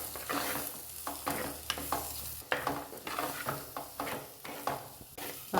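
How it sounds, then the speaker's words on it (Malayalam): Coriander powder being stirred as it fries in a pan for a Kerala-style fish curry, with steady sizzling and repeated scraping strokes of a spoon, close and fairly loud, with no voices. "അതിനുശേഷം മല്ലിപ്പൊടിയും നല്ലപോലെ ഇട്ട് അതിൻ്റെ ആ ഒരു പച്ച രുചി മാറുന്നത് വരെ നല്ലതുപോലെ ഇളക്കി കൊടുക്കണം"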